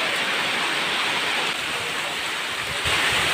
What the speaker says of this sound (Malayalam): നമ്മള് വീട്ടിൽ വന്ന് കുറച്ച് കഴിഞ്ഞപ്പം മഴയായി, നല്ല മഴയാ.